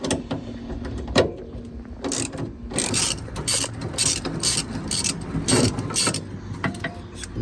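A ratchet backing out seat belt mounting screws on a 1967 Camaro convertible: repeated clicking ratchet strokes in short bursts with small metallic handling noises, close and moderately loud.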